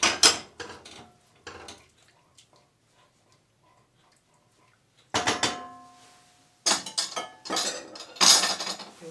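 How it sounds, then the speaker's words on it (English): Thick macaroni cheese sauce, made with leek, is whisked in a pan: quick bursts of metallic clinking and scraping, then a quiet pause, then more rapid clattering strokes, close and fairly crisp. "I'm going to use my whisk."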